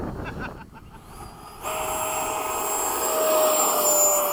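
A Hawk jet aircraft begins its takeoff roll in a strong crosswind, a steady engine roar that jumps up abruptly and holds with a rising whine, loud and continuous without speech.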